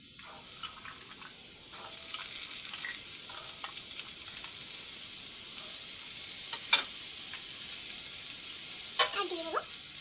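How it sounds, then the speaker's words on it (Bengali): Onion and potato pieces fry together in a pan with a soft, steady sizzle, broken by occasional clinks and scrapes of stirring. "পেঁয়াজ আর আলু একসাথেই ভাজা ভাজা হবে।"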